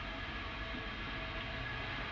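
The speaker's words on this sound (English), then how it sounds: "Sounds like something venting. This is the sound of some of the GSE." Steady broadband hiss and rumble from ground support equipment venting at a rocket launch pad before an Antares launch carrying a Cygnus cargo craft, a continuous even roar with no talk.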